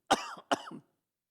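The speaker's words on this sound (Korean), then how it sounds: "기침을 하다가" Two sharp, close coughs in quick succession, each with a rough trailing rasp, from a preacher during a Sunday morning church service, then silence.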